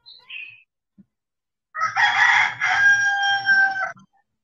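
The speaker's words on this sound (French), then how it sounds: "Ah oui, c'est les poulets de Albertine, ça." A rooster crows once, loud and close, a drawn-out call lasting about two seconds, preceded by a few faint chicken clucks in otherwise quiet surroundings.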